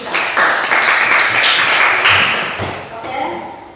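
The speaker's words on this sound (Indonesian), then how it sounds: "Oke, berikan tepuk tangan untuk kita." A class of students claps in a classroom, a short, dense burst of applause lasting about three seconds before it tapers off.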